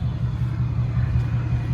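An old truck engine idles with a steady low rumble, close and continuous, no voices.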